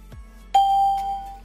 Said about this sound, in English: You will hear a sound like this when it's saved.